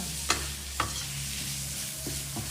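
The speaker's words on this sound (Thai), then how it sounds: "แล้วก็ผัดไปเรื่อยๆ ใช้ไฟปานกลาง" Pork stir-fried with black pepper over medium heat: a few sharp spatula knocks and scrapes against the pan ride over a steady, low, close sizzle, with no voices.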